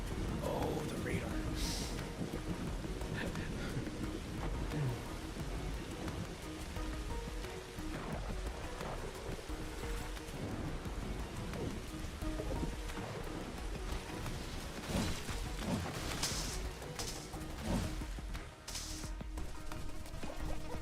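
A thunderstorm in the video game Riftbreaker, with steady rain pattering on surfaces and low thunder rumbling throughout, while a voice speaks now and then over it.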